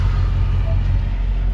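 A Ford Mustang Dark Horse sports car idles with its exhaust valves closed in quiet mode, giving a steady, subdued low rumble that stays even and continuous throughout.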